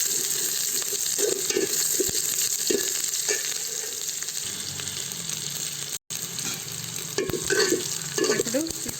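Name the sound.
okra frying in a pan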